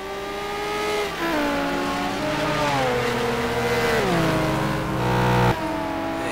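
Corvette C6R and Lamborghini Gallardo race cars in a racing video game, engines screaming at high revs with repeated pitch drops at gear shifts and a sharp cut near the end, loud and continuous.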